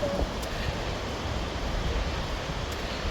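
Steady broadband roar of surf rolling onto a wide beach in Ireland, mixed with wind buffeting the microphone, constant and fairly loud with no voices.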